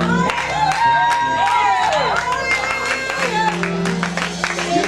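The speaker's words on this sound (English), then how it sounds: "Y'all go cheap with the clap." A church congregation claps and cheers for a woman preacher, with scattered whoops rising through steady applause while voices carry over it.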